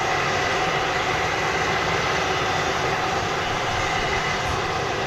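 A TUI-leased Airbus A330 at Manchester Airport produces a loud, steady roar of jet engines, continuous and broadband with no talk over it.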